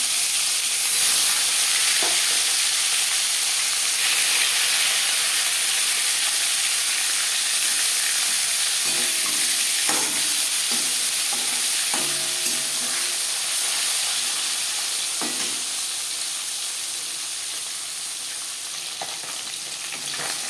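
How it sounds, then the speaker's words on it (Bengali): Marinated koi fish frying in hot mustard oil, a loud, dense, continuous sizzle that holds steady up close and eases slightly toward the end, with a few faint clinks and no voices. "পাঁচ চামচ সর্ষার তেল গরম করে নিয়েছি এবার দিয়ে দেবো ম্যারিনেট করে রাখা মাছ"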